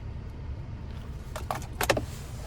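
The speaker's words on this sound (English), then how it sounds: "And there's your key fob with remote start." Key fob with remote start for a 2021 GMC Terrain SLT jangling inside the vehicle: a few light metallic clinks in quick clusters over a low steady cabin hum.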